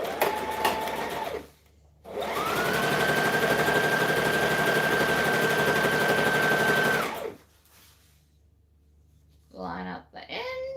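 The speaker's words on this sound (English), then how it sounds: "we're chain stitching them because chain stitching is quicker" A sewing machine chain-stitches fabric scrunchies, whirring in a short burst, pausing, then running steadily for about five seconds before stopping; a person talks briefly afterward.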